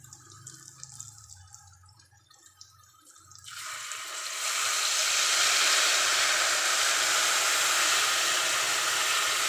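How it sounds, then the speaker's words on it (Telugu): Tamarind juice is poured into a pot of simmering pappu charu: after a few quiet seconds of faint bubbling, a loud, sustained rushing hiss starts suddenly and keeps going close by. "మంచి గాలిని చింతపండు పులుసు వేసుకోవాలి."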